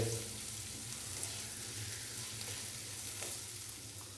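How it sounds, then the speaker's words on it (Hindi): Onions frying lightly in a pan for chana dal samosa filling, a faint, steady sizzle with soft stirring under a low background hum. "प्याज को हल्का सा फ्राई कर लेंगे 1 से 2 मिनट के लिए"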